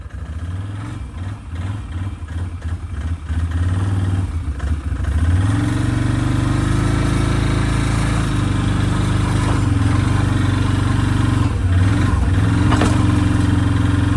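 A four-wheeler engine running close by, a loud, steady mid-pitched drone that climbs in revs partway through and holds, with uneven throttle wobbles and no talk over it.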